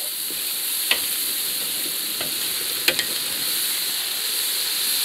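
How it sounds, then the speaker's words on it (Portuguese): Meat sizzles steadily in a hot pan of homestyle paella while being stirred, with a few sharp clicks of the utensil against the pan over the continuous frying hiss. "Dá uma misturada em tudo, puxa as carnes"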